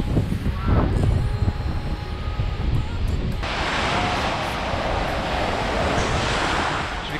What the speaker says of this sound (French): Regardez-moi ça les vagues.